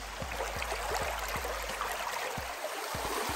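A creek in Kentucky's Red River Gorge flows with a steady, close watery rush and hiss, while soft low thumps recur at a roughly regular pace underneath, with no talking.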